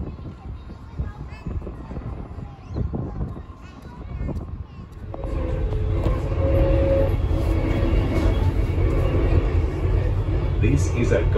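A Queensland Rail Gold Coast line passenger train rumbles through, first with scattered clatter and noise, then a louder steady roar of wheels and motors that builds and holds.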